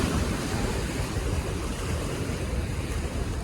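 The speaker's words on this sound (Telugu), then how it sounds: "వేవ్స్" Continuous surf rolls in on Shivarajpur beach, Gujarat, a dense, loud wash of waves with wind rumble, steady throughout and free of speech.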